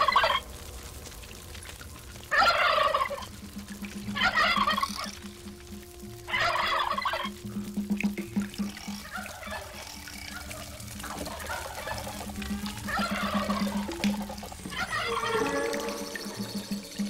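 Turkeys gobbling: several loud, rapid, bubbling gobbles come in repeated bursts over a low background of other fowl sounds, with no talking.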